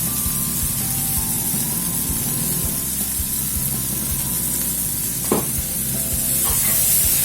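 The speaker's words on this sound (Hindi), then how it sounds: "इसको अभी मसालों के साथ डाल के फ्राई कर" Coarse soybean paste frying in an oily pan with roasted spices for a stuffed bitter gourd filling, a loud continuous sizzle with steady scraping stirs and one sharp clack from the utensil.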